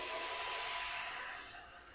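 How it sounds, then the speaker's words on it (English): Proscenic P11 cordless mopping vacuum cleaner running, a close steady high-pitched whine and hiss that fades slightly toward the end of the short burst. "and there you go, you vacuum everything."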